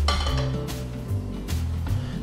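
A metal pan clinks and clatters as it is set down on a stove before cooking kimchi fried rice, with several sharp metallic knocks close by and no talk.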